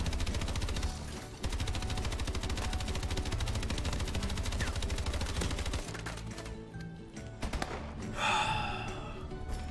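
Rapid automatic gunfire from a Call of Duty: Advanced Warfare match, a dense fast stream of shots for several seconds, then scattered bursts and a sharp gasp-like burst near the end.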